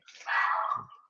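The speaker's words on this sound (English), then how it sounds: "Is that your dog, Kanto?" A dog barks during an online face mask workshop: a single short bark, fairly close and moderately loud, with no talk over it.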